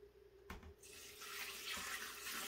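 Water from a one-gallon jug pours steadily into a portable folding washing machine, a close, continuous splashing that builds after a brief thud and stays fairly loud throughout.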